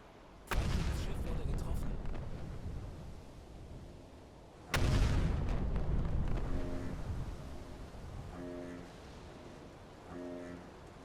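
Two torpedo hits exploding on a ship in Uboat, each a sudden loud boom rolling into a long rumbling decay, the second following about four seconds after the first, with faint tonal alarm-like pulses afterwards.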